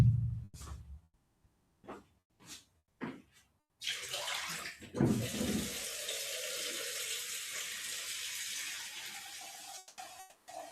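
Water splashes and is dumped out in a few short bursts, then a tap runs steadily with a strong rushing flow for several seconds while a jar of watercolor rinse water is refilled.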